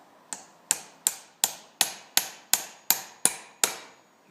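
Hammer strikes metal in a workshop, ten sharp, evenly spaced ringing blows in a steady rhythm, each decaying quickly, close and clear with no talking.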